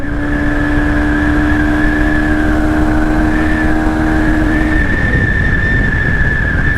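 A Yamaha FZ25 motorcycle accelerates hard through the gears, its loud engine whine climbing steadily before a shift changes the pitch partway through, heard up close with no talking.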